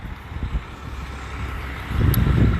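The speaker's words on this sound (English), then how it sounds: "there's a garbage truck going by" Garbage truck driving past on a street, a rumbling engine that builds to a louder, closer growl near the end, with brief hiss-like bursts.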